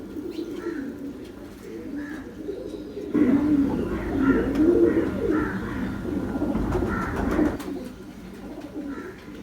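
A Parwazi flying pigeon coos in a loft, repeated soft throaty coos and brief chirps, close by, with louder bursts of cooing in the middle stretch.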